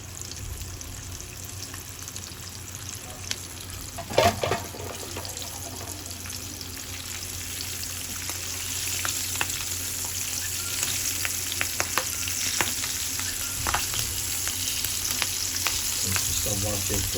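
Two or three cut green chillies fry in hot oil with a continuous close sizzle, broken by a few clattering stirs early on, and the frying grows slightly louder toward the end.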